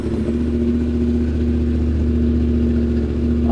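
A Yamaha R7 motorcycle fitted with a Black Widow exhaust idles and revs up close, giving a steady, loud, throbbing engine drone that holds without a break.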